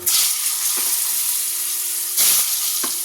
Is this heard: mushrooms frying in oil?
yes